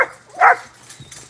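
Dogs let out a few short, close barks and yips in quick succession, loud against a quiet room.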